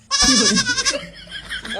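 A goat bleats loudly and close by in one long, wavering cry that trails off into a quieter second bleat.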